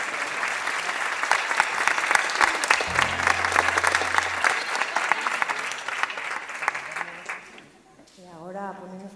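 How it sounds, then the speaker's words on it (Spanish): An audience claps warmly after a song at a singing show, steady dense applause for several seconds that fades out, with someone speaking over the end. "Es que apeteme seguir aplaudiéndovos, la verdad."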